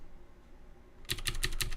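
Computer keyboard keys clacking in a quick run of four or five sharp strokes after a near-silent start, close and fairly loud in a quiet room.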